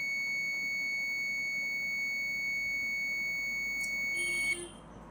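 A multimeter beeps continuously across the leads of an undischarged capacitor on a Smart LED TV motherboard (TP.ATM30PB818), a steady high tone that stops once the capacitor discharges, over a low background hum.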